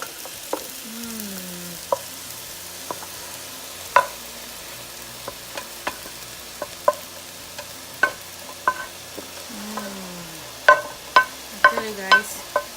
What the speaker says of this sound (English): I'm gonna put the noodles in here.